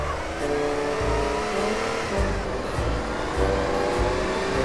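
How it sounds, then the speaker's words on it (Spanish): An old Ferrari's engine in GTA San Andreas revs repeatedly, a loud buzzy note rising and falling in several pulses over nearly five seconds, heard alone without speech. "veré cómo arranca el carro que me vendieron"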